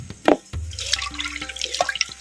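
Tamarind water is poured into a pan of frying masala in oil, making a close splash and sizzle followed by soft bubbling and trickling.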